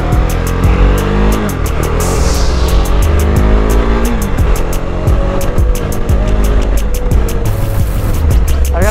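A KTM motorcycle engine while riding: a loud, steady engine drone with a rising and falling pitch as the revs change, along with rushing wind and road noise and rapid regular ticking throughout.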